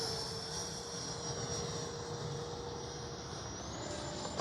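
An E-flite 70mm Viper RC jet, an electric ducted-fan model, passes low down a runway with a steady, loud whine that holds through the pass and rises slightly in pitch near the end.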